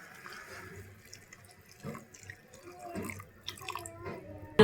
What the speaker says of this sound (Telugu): పచ్చనపప్పు బీరకాయ బాగా ఉడకాలి కాబట్టి కొంచెం వాటర్ పోసుకోండి.